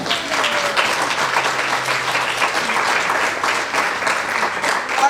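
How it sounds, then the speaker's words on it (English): Steady audience applause fills a celebration honoring an arts organization, a dense even wash of many hands clapping close and loud for the full stretch with no voices rising above it. "Yes, please clap."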